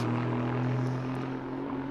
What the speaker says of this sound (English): Great sound of the 4-litre turbocharged Aston Martin engine that powers this GT3 version of the Vantage.